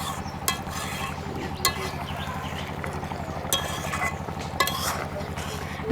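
A spoon stirs tempu posto with garam masala paste in a pan, giving soft scraping and occasional light metallic clinks over a low sizzle, fairly quiet.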